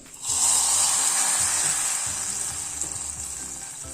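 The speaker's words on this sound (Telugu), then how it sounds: "ఈలోపు డ్రై ఫ్రూట్స్ వేయించుకొని ఇందులో వేసుకోవాలండి" Cashews and raisins frying in hot fat in a pan for sago payasam, a loud, steady close sizzle that starts abruptly and holds evenly throughout, with faint stirring underneath.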